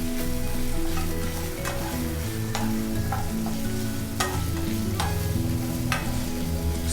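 Paneer fries on medium heat in a pan for a pepper fry, a loud continuous sizzle with sharp crackling pops and stirring scrapes, close up and without talk.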